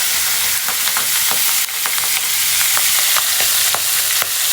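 Oil sizzles steadily in a pan while broken-rice pulao is cooked, a constant close frying hiss broken by repeated light scraping clicks of stirring, with no talking.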